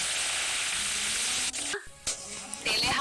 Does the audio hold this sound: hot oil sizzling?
yes